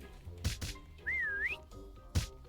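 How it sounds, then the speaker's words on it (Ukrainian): Whistle in a Roblox hide-and-seek game, a single wavering tone rising and dipping for about half a second, set between soft thumps and clicks from the game. "На 10 секунд свистну."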